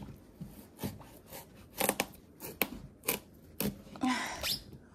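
Hard spaghetti squash being cut with a knife, heard as a series of sharp, close crunching cuts and scrapes in an irregular rhythm, with no talking.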